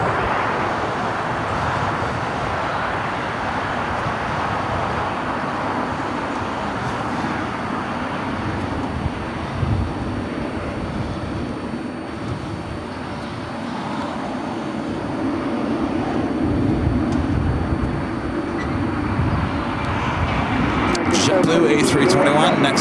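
A cargo freighter aircraft taxis at LAX, its steady broadband engine rumble and whine continuing throughout at moderate distance, building slightly toward the end.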